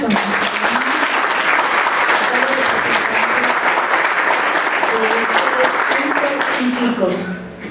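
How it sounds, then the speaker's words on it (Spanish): Sustained audience applause fills a gathering at a biblical spirituality event, dense and steady clapping at close range with faint voices threaded underneath, tapering slightly at the end. "Les damos un aplauso."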